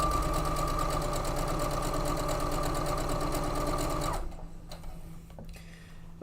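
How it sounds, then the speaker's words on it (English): Sewing machine running steadily while stitching fabric pieces end to end, a loud continuous mechanical whir that stops abruptly after about four seconds, leaving quiet room noise with a few soft knocks. "We're just sewing them up end to end"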